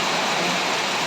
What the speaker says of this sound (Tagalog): ni bunok ang ulan